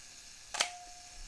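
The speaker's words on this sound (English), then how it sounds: "you can hear that shutter go off" A single sharp mechanical shutter release from a Pentax MX film camera fired on its self-timer, one crisp close click followed by a faint lingering tone, in an otherwise quiet room.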